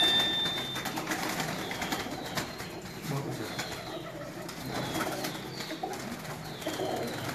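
Pigeons of a prized fancy breed coo softly amid a busy outdoor loft, faint calls scattered over a constant broadband hiss and rustle, with occasional wing movement.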